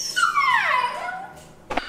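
A dog gives a single drawn-out whining yelp that slides downward in pitch, followed by a short sharp noise near the end.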